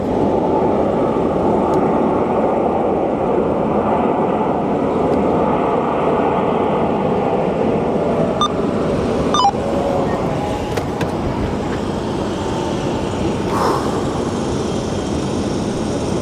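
A Frontier airliner departing Phoenix Sky Harbor airport for Denver, a loud, steady broadband jet engine roar heard from the ramp that holds throughout with little change, no talking.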